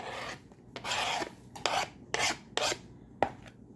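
The back of a kitchen knife scrapes across a cutting board in about seven short rasping strokes, close and fairly quiet, with pauses between them.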